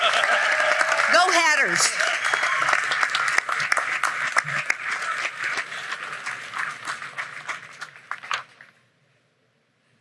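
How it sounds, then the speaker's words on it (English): Loud, steady applause and cheering from a crowd at a law school commencement ceremony, with a shout rising briefly above the clapping before it thins out and stops abruptly near the end. "Let's give one more round of applause for our very special honorary degree recipient, Prezaria F. Law."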